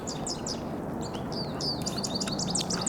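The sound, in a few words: woodpecker calling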